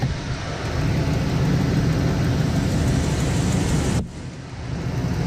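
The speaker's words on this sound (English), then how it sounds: "I also hear an exhaust leak." A Chevy Express 3500 van engine idles with a leaking exhaust manifold, giving a steady, close, low rumble and broad hiss that dips briefly near the end before settling back.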